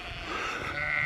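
Sheep bleating in a field during a countryside walk, a single sustained bleat with harmonic tone, moderately near over steady outdoor background.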